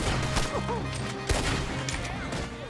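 Gunfire in the Red Dead Redemption 2 video game, several sharp shots cracking over a dense background of game sound and music, close and loud, with a heavier blast near the middle.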